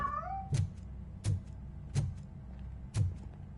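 A cat in the RoboCop video game gives one short, sliding meow at the start, followed by four sharp, evenly spaced thumps over a low background rumble.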